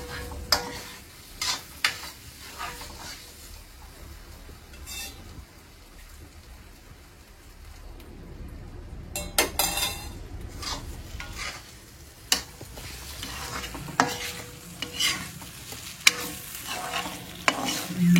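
Vanjaram dried fish thokku frying in oil in a pan, with a spoon stirring and scraping through it in irregular bursts over a steady sizzle.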